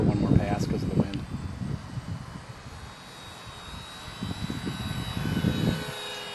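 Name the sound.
model airplane electric motor flying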